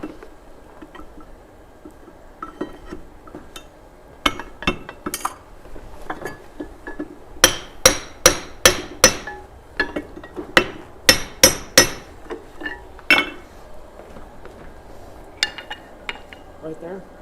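Hot steel being forged into an axe, a hammer striking it on an anvil in sharp ringing blows, some in fast runs and others spaced apart, with a few quiet remarks in between.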